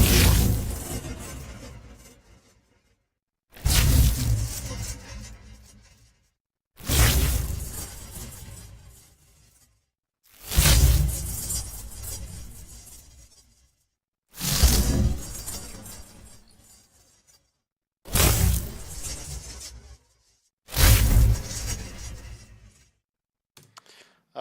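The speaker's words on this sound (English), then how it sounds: "some portal sounds for a ship flying through a portal" Seven loud, whooshing bursts with a glassy, shimmering crackle, each swelling in and then cutting off sharply, separated by short silences.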